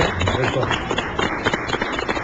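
A crowd claps in applause, a dense rattling patter of many hands, with voices mixed in.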